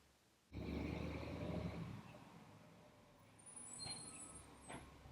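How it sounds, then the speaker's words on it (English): A garbage truck passes outside with a loud low rumble that rises abruptly, holds for about a second and a half, then eases into a steady drone, with a few brief hissing, brake-like bursts toward the end. "Garbage truck."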